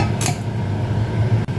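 A lid goes onto a cooking pot of Jaffna-style ivy gourd curry boiling on high heat, giving one brief clatter near the start against the low, steady hum of the stove.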